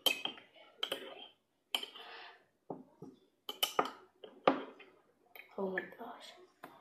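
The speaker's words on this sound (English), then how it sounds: "we need a spoon and we have to do some mixing of it" A spoon stirring tea in a cup makes a series of distinct, close metallic clinks and taps at irregular intervals, with brief pauses between clusters.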